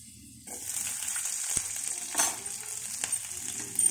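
Garlic sizzles in hot oil in a pan, a soft, steady crackle that starts abruptly and continues with small pops and brief stirring sounds.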